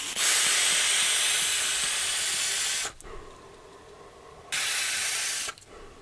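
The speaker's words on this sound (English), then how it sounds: "I'm vaping at 65 watts, and I got the airflow wide open" A Peerless RDA on a Wismec Predator 228 with a 0.15 ohm dual fused Clapton coil at 65 watts is vaped with the airflow wide open, giving two close, loud airy hissing draws, the first long and the second shorter, with a quiet gap between.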